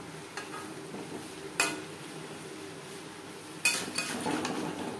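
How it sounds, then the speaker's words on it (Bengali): A spoon scrapes and knocks through chickpeas tossed with spices and mutton fat in a pan, with two sharp metallic clinks standing out over a faint, steady background hiss. "মশলা ও চর্বি চানার সাথে বেশ ভালো করে মিক্সড করে দেব"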